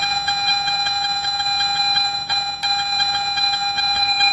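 A Garrett metal detector gives a steady electronic target tone over a buried target, a sustained high beep with faint regular pulsing as the coil sweeps back and forth, close and clear with no talk.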